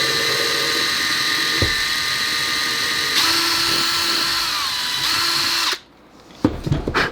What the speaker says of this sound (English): So I'm just gonna have to hand drill it.